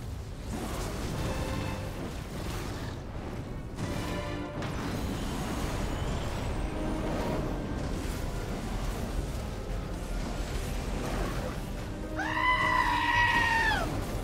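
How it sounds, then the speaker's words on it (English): A goat bleats in Final Fantasy XVI gameplay amid loud, continuous game sound, with a strong wavering bleat rising clearly near the end. "It's a goat!"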